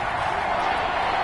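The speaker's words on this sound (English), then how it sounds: "this crowd urging on their defense." A football stadium crowd roars during a defensive play, a dense, loud, sustained wash of cheering and noise.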